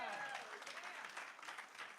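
Audience at a community partnership breakfast claps in a short burst of applause, a dense patter of hands heard fairly softly alongside speech.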